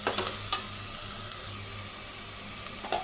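Ginger paste and tomato fry in a pan for a curry with minapa vadiyalu, giving a steady close sizzle with occasional stirring scrapes.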